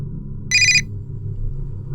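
A telephone rings once in a short burst over a low room rumble, indoors during a crime drama scene.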